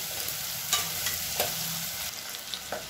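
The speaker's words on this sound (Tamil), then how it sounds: "வெங்காயம் நல்லா ஓரளவுக்கு வதங்கிடுச்சு." Onions sautéing in a pan for sambar rice, a steady broadband sizzle with a few soft stirring scrapes of a spoon, close and continuous with no talking.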